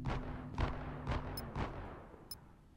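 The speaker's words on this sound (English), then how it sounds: "I don't want to hear their gunshots anymore." Several sharp gunshots crack in quick succession in the survival game Heat Death, a handful of bursts over a few seconds with a steady electronic hum beneath.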